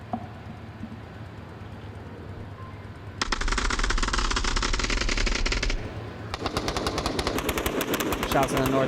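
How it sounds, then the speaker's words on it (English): Rapid automatic gunfire rattles in the VR shooter Onward, a long dense burst followed after a short gap by another stuttering volley, loud and close over a low background hum. "Shots in the north."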